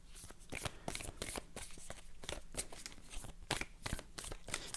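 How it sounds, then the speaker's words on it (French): An oracle card deck is shuffled by hand, a faint, close series of rhythmic papery flicks and rustles with no talking over it. "Je prends une carte donc d'envolée sauvage."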